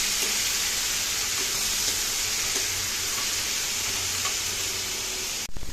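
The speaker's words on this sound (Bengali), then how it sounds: "খুব ভালো করে কষিয়ে নিতে হবে।" Masoor lentil chorchori sautés in a pan with a constant loud sizzling hiss throughout, faint stirring scrapes underneath, ending in a brief clunk, with no one speaking.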